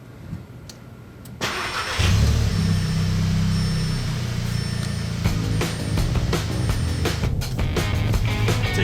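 Audi S3 engine cranking and catching in a parking garage, a brief starter whir followed by a loud, steady idle rumble that settles and continues to the end, with a few clicks and thumps over it.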